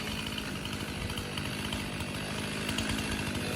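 A chainsaw cuts through a large tree trunk in a forest, a continuous dense buzzing roar held steady and close throughout.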